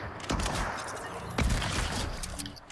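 Rapid bursts of video game gunfire, with two heavy volleys about a second apart and a steady crackle of shots in between, loud and close.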